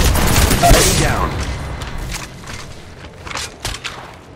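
Gunfire in Apex Legends Mobile played on an iPad: a burst of heavy shots and booms up front, then scattered, fainter pops and thuds with a muffled voice over them.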